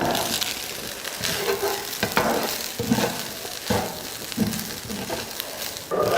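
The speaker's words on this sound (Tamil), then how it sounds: "அடுப்பை சிம்மில் வச்சு கலந்துக்கோங்க" Soya chunks, egg and rice are stirred in a frying pan over a low flame, with soft sizzling under repeated scraping strokes of the spoon, steady and close.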